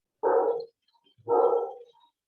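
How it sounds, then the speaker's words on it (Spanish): A dog barks twice, about a second apart, each bark short and moderately loud against an otherwise silent background. "mutea al perro"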